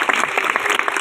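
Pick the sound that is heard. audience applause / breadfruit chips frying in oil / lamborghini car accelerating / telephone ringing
audience applause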